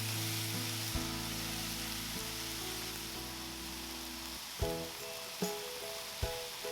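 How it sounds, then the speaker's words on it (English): Korean beef bulgogi searing in a pan until slightly charred, a steady close sizzle with a low hum underneath and a few soft knocks near the end, no talking. "Cook the beef again to slightly charred before serving."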